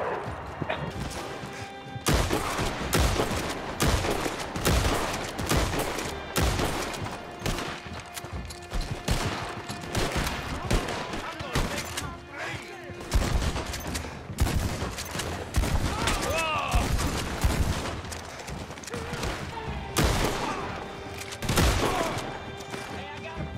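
Sustained machine-gun fire in Red Dead Redemption 2, loud and dense with near-continuous bursts and crashing impacts across the whole stretch, with some speech-like sound mixed in.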